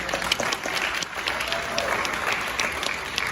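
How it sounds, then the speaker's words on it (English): Mothers in the audience at a state championship wrestling ring ceremony applaud, a steady, moderately loud patter of many hands clapping throughout. "Moms, you clap."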